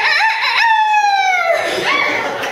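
A human voice imitates a rooster's crow, one long rising-and-falling cock-a-doodle-doo followed by a shorter trailing call.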